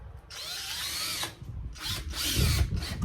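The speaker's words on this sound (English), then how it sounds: "So I'm just going to screw these down." A power drill drives screws into a panel on an Audi TT, two long whirring bursts with a brief pause between, close and loud with no talking.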